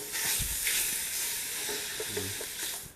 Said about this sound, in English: I'll cook the sausage until it's done, about 10 minutes